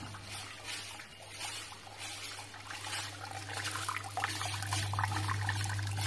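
Distillate trickles out of a reflux still during a first alcohol run, a thin, quiet liquid dribble over a steady low hum that grows slightly stronger toward the end.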